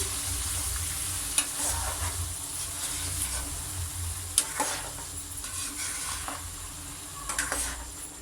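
Chicken karahi sizzles steadily in a pan as tomato paste is stirred in, the frying hiss continuous with a few sharp scrapes and clinks of the spoon against the pot.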